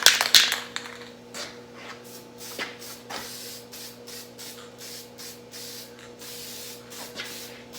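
Short hissing bursts of aerosol rust paint sprayed onto a vintage tractor steering wheel, a loud close blast at first and then softer repeated puffs over a faint steady hum.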